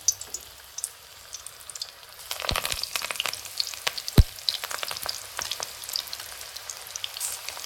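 Spinach bhaji fritters dropped by hand into hot oil, a quiet steady hiss that swells into sharper crackling sizzle with scattered pops, fairly close with no talking.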